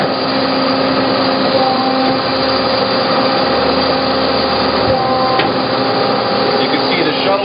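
Hyd-Mech 16 by 16 inch automatic horizontal bandsaw running through a cut, a steady loud mechanical drone and whine with constant motor hum throughout and a brief knock near the end.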